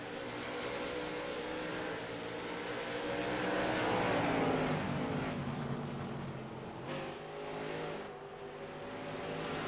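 Race cars lapping an oval during a charity stock car race, engines droning loudly and continuously with a rising and falling pass around the middle, no talk in the foreground.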